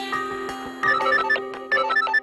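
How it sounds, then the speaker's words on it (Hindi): A phone ringtone plays a bright, repeating electronic melody of short tonal notes in bursts, fairly close and clear with no talking over it. "अरे तुम्हारा फोन बज रहा है"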